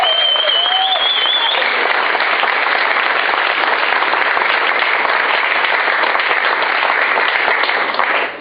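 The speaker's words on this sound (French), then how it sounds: "Est-ce que nous pouvons donner une acclamation bien décidée?" A congregation at a French-language thanksgiving church service breaks into sustained, dense applause, loud and even throughout, with a brief whistle or cheer at the start before fading at the end.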